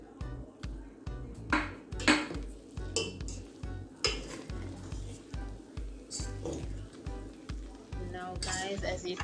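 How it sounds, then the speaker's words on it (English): Rice being fluffed in a pot for Jamaican callaloo rice, with a scotch bonnet pepper left in: a steady run of soft scraping stirs and light utensil clinks against the pot, with a few sharper knocks, close and moderately loud. "I'm fluffing my rice up before I add the star of the show."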